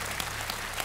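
A studio audience at a TV quiz show gives a short, dense burst of steady clapping.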